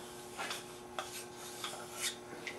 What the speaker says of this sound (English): diamond file. It's gonna take the finer part of it.